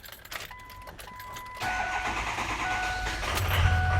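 A Ford F250 diesel truck engine cranks and catches, settling into a loud, steady rumbling idle with a faint whine, preceded by a few seconds of quiet workshop ambience.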